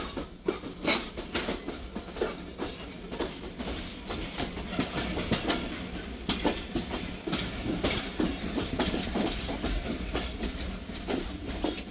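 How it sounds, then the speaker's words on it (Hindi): A shunting locomotive moves a rake of train cars through the Karachi Cantt yard, with steady rolling rumble and repeated clickety-clack wheel thumps over rail joints, heard close and continuous without talk. "शंटिंग लोकोमोटिव शंट कर रहा है ब्रेक वाइन का।"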